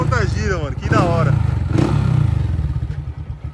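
A Honda Start 160 motorcycle fitted with a Dore exhaust idles with a steady, throbbing engine note close by, while someone talks over it.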